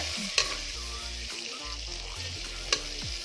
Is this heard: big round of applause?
no